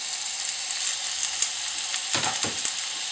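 Steak sizzles in a hot pan with a steady bright hiss, and a few sharper crackles and spits rise near the end. No one speaks.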